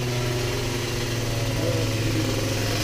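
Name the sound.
Malossi engine revving as it accelerates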